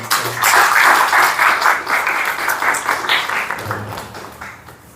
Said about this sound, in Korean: 우리 경례의 박수도 한번